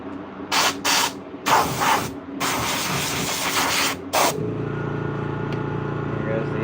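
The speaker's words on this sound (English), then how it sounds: "here goes the air compressor" An air compressor sprays in several sharp hissing bursts, then gives way to a steady lower motor hum. A voice is faintly present.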